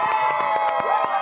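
A live podcast audience cheers and claps for the host in a short, dense burst of crowd noise over steady background music.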